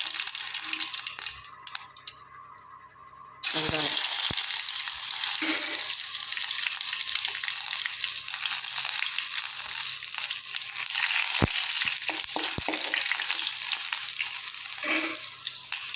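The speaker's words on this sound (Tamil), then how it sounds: "எண்ணெய் ஊற்றிட்டேங்க ரசம் தாளிச்சிக்கலாம் கடுகு போடணும் கடுகு போட்டோம்" Mustard seeds splutter in hot oil while tempering rasam: it crackles and sizzles after a quieter start, with sharp pops as seeds splutter, steady and close, no talking.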